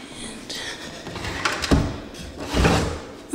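A drawer in a room being checked at move-out slides and bumps, giving two dull wooden thuds a second apart with some scraping between them, close by and moderately loud.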